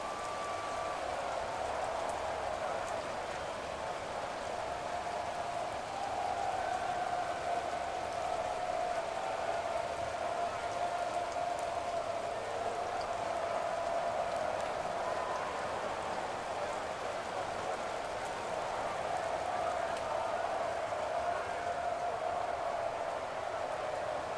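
Steady rain falls during an NFL football game between the Steelers and Bengals, a continuous even hiss with a faint tonal hum running through it and no clear voices.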